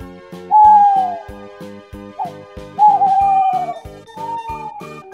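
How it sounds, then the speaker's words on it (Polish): At night, an owl-like bird gives long drawn-out hooting whistles, three of them, clear and close. A rhythmic chirping of other night birds or insects pulses underneath throughout. "Wiemy, to tylko śpiew ptaków."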